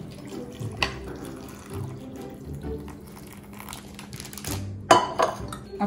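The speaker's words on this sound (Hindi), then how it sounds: "और अब अपनी कॉफी डालें।" Coffee pours into a glass filled with ice cubes, holding mushrooms and marshmallows, for a pumpkin spice latte. Soft liquid trickles and faint ice clinks are close and quiet, ending in a brighter clatter of glass and ice near the end, with no talking.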